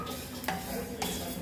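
Sesame seeds and curry leaves roasting in a pan for ellu podi, with a soft sizzle. A spatula scrapes and stirs twice against the metal, close and clear.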